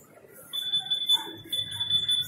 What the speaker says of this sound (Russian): Пикает.